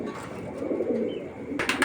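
A racing pigeon coos softly and close in a low, rolling burble, followed by a brief sharper burst near the end, with little else around it.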